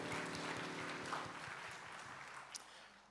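Church congregation applauding during a Sunday morning worship service at a university church, a steady wash of clapping that fades slightly toward the end, with no voices over it.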